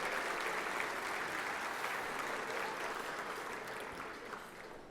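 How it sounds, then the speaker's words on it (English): Steady, dense applause from a luncheon audience at a national athletics association awards convention, filling the room evenly and tapering slightly toward the end, with no voices over it. "could we have a round of applause for our servers and our staff here today?"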